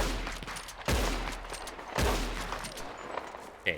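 Gunfire from the video game Red Dead Redemption II: two loud, sharp shots about a second apart, then a smaller crack near the end, over a steady background of game ambience.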